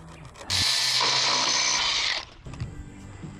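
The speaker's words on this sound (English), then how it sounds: "Just need to drill the holes and that's it." A power drill bores holes in a wooden stair post with a steady, close, high whirring for roughly two seconds, with a soft ratcheting clatter before and after.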